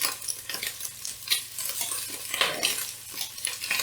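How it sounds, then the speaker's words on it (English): Irish sausages frying in a pan give off a close, continuous sizzle while a utensil scrapes and taps against the pan, steady crackle with no talking. "I'm going to put the sausages in here."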